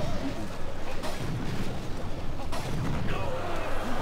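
A mortar fires in Clash Royale, its muffled thumps landing around the one-second and two-and-a-half-second marks inside a dense, steady wash of battle noise from the mobile game.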